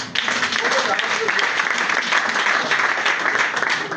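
Applause from a church congregation fills the space, a steady dense clapping held at full loudness for the whole stretch, with voices and cheers mixed in.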